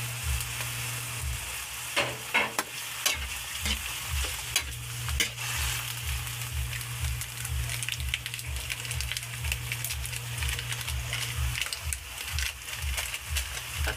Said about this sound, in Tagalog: Gisahin na natin ito ng maayos, guys.